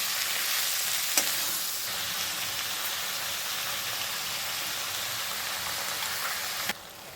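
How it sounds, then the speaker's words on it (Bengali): Chopped onions frying with bhetki fish bones in a pan, a dense, loud, hissing sizzle that holds steady with a couple of faint utensil taps, dropping slightly at the very end. "মিডিয়াম সাইজে 5টা পেঁয়াজ কুচি নিয়েছিলাম, সেটা দিয়ে দিয়েছি।"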